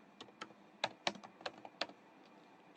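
Python code being typed on a computer keyboard, a few distinct, fairly close key clicks in an uneven rhythm, each tap clear against a quiet background.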